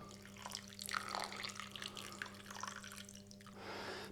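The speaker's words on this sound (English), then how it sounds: "Half a cup of apple cider vinegar." Apple cider vinegar poured into a bowl makes a faint, close trickle and splash of liquid lasting a few seconds.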